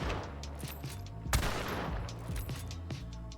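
Homestead rifle shots in Hunt: Showdown fire at an even cycle, loud sharp reports each trailing into echo, with one heavier blast near the middle over a rumbling game soundscape.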